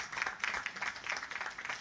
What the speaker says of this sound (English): You know, we clap for that guy.